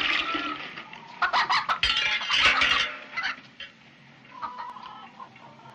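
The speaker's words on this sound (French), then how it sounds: "Mais vous avez des poules?" Hens cluck in a short, lively burst of broken squawks and chatter, fairly close and somewhat faint, with a quieter stretch afterward.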